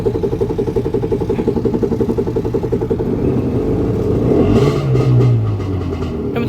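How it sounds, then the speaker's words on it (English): A Wave Venture jet ski engine runs steadily with a pulsing mid-range drone, loud and close, then revs up briefly near the end before settling back to a rough idle; no talking. "We're gonna put oil in the Wave Venture and get this one started too."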